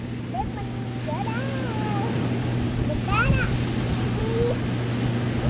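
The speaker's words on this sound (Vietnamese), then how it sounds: "mọi người nghe từ xa là cái động cơ nó nghe hu hu rồi đó" A heavily loaded cargo boat runs at full throttle ahead of a storm, its engine a steady low drone heard from a distance over choppy water, with scattered high chirping sounds on top.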